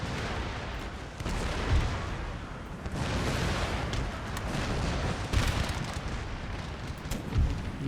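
Cannon and artillery fire rumble without pause in an Empire Total War battle, with deep booms and sharp reports piling up into a loud, dense barrage of distant and near shots.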